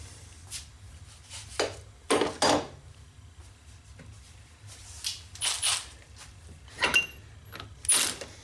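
A long breaker-bar-style ratchet works a bolt loose on a Honda Accord during a compliance bushing job, giving several separate metallic clicks and clunks spread over the stretch, close and fairly loud against a quiet background.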